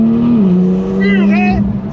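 Loud modified Porsche engine and exhaust accelerating, a strong steady engine drone with rising harmonics, close and continuous under brief talk.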